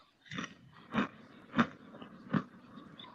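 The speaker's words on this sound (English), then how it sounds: "The chewing's too loud." Loud chewing right up against a microphone during an online football watch-along call, four distinct crunchy bites spaced about half a second apart over quiet background.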